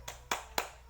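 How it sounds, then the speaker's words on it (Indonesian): A classroom group gives a rhythmic chant-style clap of three sharp, evenly spaced bursts, close and loud over a low steady hum. "Tepuk hebat."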